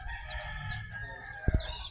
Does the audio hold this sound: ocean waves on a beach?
no